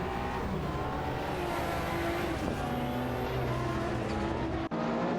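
Race car engines scream in an AI racing game, several cars revving and passing together in a dense, continuous whine that shifts pitch as they overtake, loud and close.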